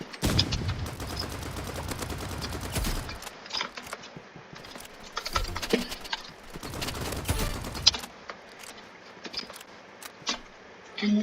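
Assault rifle gunfire in the video game Rivals comes as rapid bursts of sharp automatic shots mixed with mechanical clicks and scattered single cracks, with lulls between volleys. No speech is heard.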